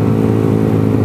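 A small motorcycle ridden at night on city streets, its engine droning loud and steady up close with a dense, even rumble and no voices.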